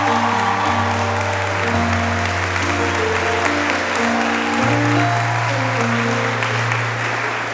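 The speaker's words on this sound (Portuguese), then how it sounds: "Dá uma salva de palmas ao Senhor." A church congregation at a worship service claps steadily as one dense crowd, with sustained keyboard chords held underneath throughout.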